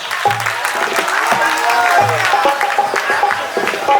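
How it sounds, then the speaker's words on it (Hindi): Audience applause and cheering at an outdoor Ramlila stage during Navratri in Ara's Ramna ground, a dense steady wash of clapping with crowd noise and some voices and music tones mixed in. "इस मंच को आवाज दीजिए और एक बार जोरदार ताली बजाइए अनुपमा यादव।"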